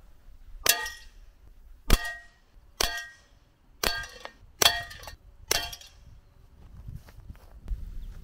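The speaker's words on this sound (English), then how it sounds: "First, six shots of the Gamo match from 10 meters away." Six sharp, evenly spaced shots from a gas-powered air gun firing Gamo Match pellets at a target about 10 meters away, each crack followed by a brief metallic ring, with quiet gaps between.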